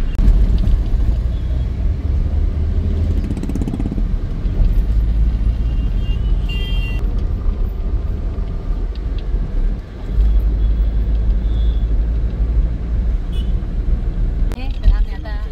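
A car rolls up to a railway station and pulls into the parking area, with a continuous low engine rumble and road noise, a brief dip as it slows, and other vehicles and background voices around it.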